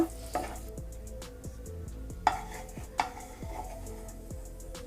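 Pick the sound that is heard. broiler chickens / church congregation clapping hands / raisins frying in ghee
raisins frying in ghee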